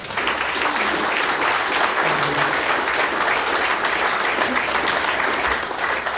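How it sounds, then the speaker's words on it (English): A loud, dense wash of applause from a crowd at a boxing hall of fame ceremony, sustained and even throughout with a low murmur underneath. "I think he deserves a round of applause."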